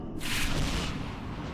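Grenade exploding in S.T.A.L.K.E.R.: Shadow of Chernobyl, a single sudden roaring blast that decays into a rumbling tail, fairly faint.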